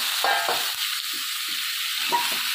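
Chicken pieces tipped into spices frying in a pan, raising a soft steady hiss, with a few brief stirring scrapes over about two and a half seconds.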